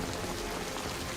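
Steady rain pours in a Game of Thrones execution scene, a dense even hiss of falling water that fills the whole moment without pause.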